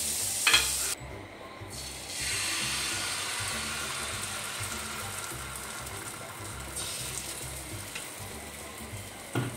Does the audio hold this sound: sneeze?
no